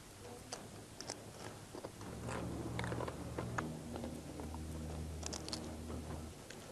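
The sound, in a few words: crunchy chewing of dry tarhana eaten as a snack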